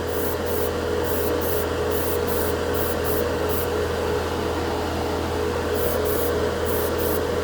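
An airbrush sprays nail polish onto a plastic scale model in a steady, continuous airy hiss over a constant low compressor hum, with brief faint high bursts near the start and end.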